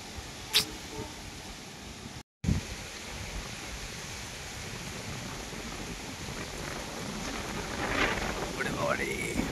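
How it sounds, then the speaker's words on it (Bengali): Strong wind gusting through a cold, rainy night, a steady, loud broadband rush that briefly drops out, then swells again and grows stronger toward the end. "জোর হাওয়া দিচ্ছে গো"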